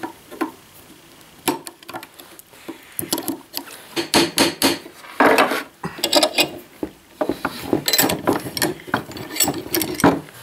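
Universal joint caps squeezed into the front axle yoke of a Ford F-250, with irregular metallic clicks, knocks and clanks of parts and tools, close by.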